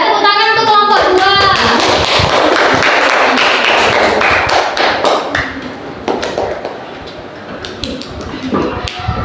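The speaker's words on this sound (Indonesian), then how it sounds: "Ya, tepuk tangan untuk kelompok 2." A classroom of students claps for the second group, with bright scattered hand claps and taps mixed with chatter, fading to looser, sparser claps toward the end.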